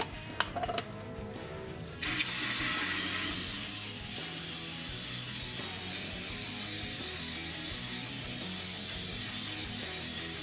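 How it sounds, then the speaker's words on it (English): Cleaner sprayed in a long continuous hiss over the differential parts of a 2015 Nissan Frontier, following a few brief clicks and clatters, close and fairly quiet. "and then spray everything with cleaner."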